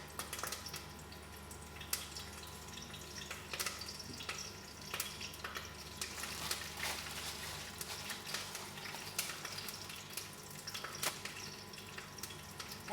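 Curry leaves frying in hot oil for a fish curry give a soft, steady crackle and sizzle with scattered sharp pops, with no voices.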